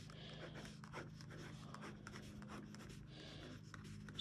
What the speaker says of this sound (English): So I'd have the students write